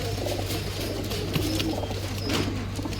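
Pigeons coo softly alongside other birds, low and continuous against a steady background hum, with no talking.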